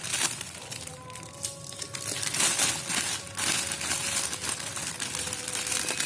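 Plastic bag crinkling and crushing while a second-hand luxury Ferrari bag is unboxed, close and loud in irregular bursts of rustling and crackling, with brief sharp snaps between handling sounds.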